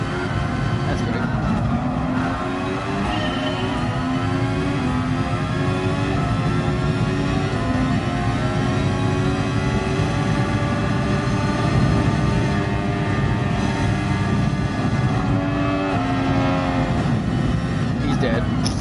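A Formula 1 race car engine in a first-person racing video game drones loudly and continuously, its pitch climbing and dropping through gear changes, while someone talks over it throughout.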